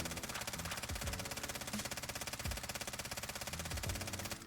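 Sustained automatic gunfire rattles steadily at a wall in the Warzone video game, one long unbroken burst of rapid, evenly spaced shots at close range.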